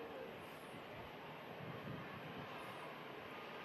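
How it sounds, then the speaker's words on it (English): EasyJet jet airliner from Prague coming in to land at Manchester Airport, a faint distant broadband roar heard steadily through light wind noise. "Got another aircraft coming in to land as well, which is EasyJet in from Prague."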